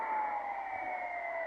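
An ambulance siren creeping slowly through traffic, heard as a steady, loud, continuous wail that sinks slightly in pitch over a second and a half, set against a constant wash of road noise, with no voices.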